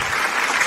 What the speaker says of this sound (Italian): Facciamo un applauso da casa, facciamo un applauso da qua.